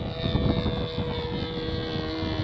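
Sig Smith Miniplane RC model biplane powered by a Magnum 46 glow engine with an APC 11.4 propeller, running on 15% Cool Power fuel, drones steadily overhead in a continuous nasal buzz against outdoor wind at Hemet, California.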